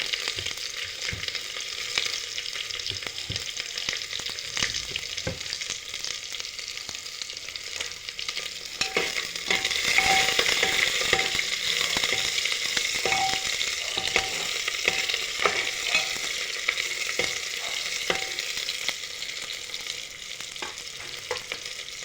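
Panch phoron spices and chopped onion frying in hot oil, a steady close sizzle with faint stirring scrapes throughout, no voices.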